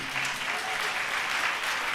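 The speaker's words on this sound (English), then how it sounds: "And you can applaud that absolutely." An audience applauding, a dense, steady wash of many hands clapping at even loudness throughout, with no single voice standing out.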